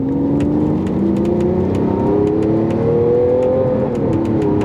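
A sports car with a single-clutch gearbox accelerating hard, a loud, continuous engine note rising steadily in pitch from inside the cabin, with faint clicks over the roar and no talking.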